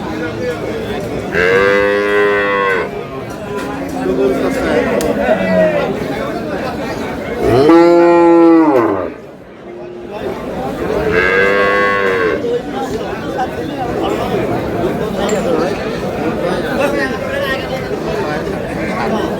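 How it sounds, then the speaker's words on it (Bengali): Dairy cows and calves moo loudly and close by at the Aftabganj cattle market in Dinajpur, giving three long, drawn-out calls. A crowd chatters and talks steadily throughout. "গাভী বাছুর।"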